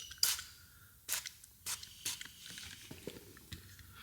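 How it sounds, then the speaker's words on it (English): Several short, quiet hissing spritzes of Goo Gone from a spray bottle, spaced unevenly, with faint handling noises between them. "So let's spray a little bit of Goo Gone on this."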